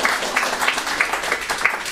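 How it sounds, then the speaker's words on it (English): Conference audience claps in a dense, rhythmic patter, many hands together at a fairly close, steady level without pause. "You kept clapping."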